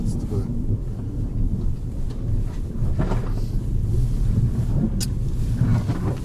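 A Chery Tiggo 4 crawls along in first or second gear on front-wheel drive, giving a steady low rumble of engine and cabin noise throughout with faint bumps, and no clear talk over it.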